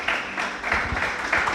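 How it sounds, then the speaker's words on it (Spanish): A congregation at an evening evangelical church service claps in a short burst of moderately loud, dense applause, steady throughout. "la recibimos con un aplauso"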